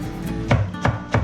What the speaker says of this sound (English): We're going to chop our zucchini.